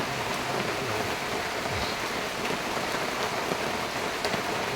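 Rain falling steadily, a dense, even hiss of drops on surfaces that continues without pause, fairly loud and close, with no voices.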